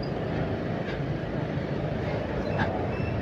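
A train passing near Tanjung Priok station, heard as a continuous low rumble and rolling clatter with faint squeals, moderately loud and steady, recorded from a motorcycle nearby.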